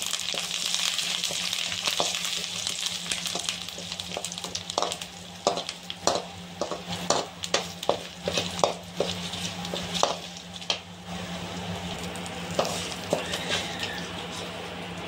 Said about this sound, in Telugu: మనం ఆయిల్లో వేపుకొని కరివేపాకుని ఈ రొయ్యల పైన వేసుకోవాలి